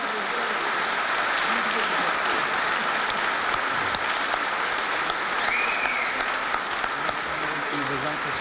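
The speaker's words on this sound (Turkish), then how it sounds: "Kocaman alkışlarla sunucumuz Murat arkadaşımızı buraya rica ediyorum" Continuous audience applause fills a hall at an academic choir concert, a dense steady roar of many hands clapping, with a faint whistle partway through.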